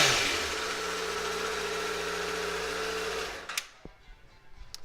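A 2014 Honda CBR1000RR motorcycle engine runs at a steady, even idle close by for about three seconds, then falls silent, leaving a few faint clicks.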